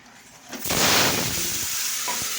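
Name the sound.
eggplant frying in a pan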